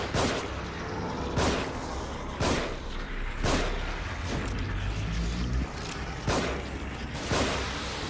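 Gunshots in the video game The Evil Within: about seven sharp, loud reports at uneven intervals over a steady background hum.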